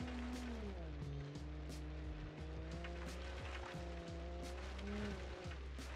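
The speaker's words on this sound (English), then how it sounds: "Very, very quiet engine," A 1970s land yacht with a 1-liter engine and rear-wheel drive idles steadily, its low, smooth rumble fairly quiet and constant, with faint wavering tones above.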